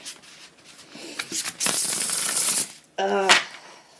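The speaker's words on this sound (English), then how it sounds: "Let's go ahead and give it a good shuffle of the Tarot de Books a Million" Tarot cards being shuffled by hand, a few soft riffles building to a dense rapid flutter, then a brief second burst, close and fairly loud.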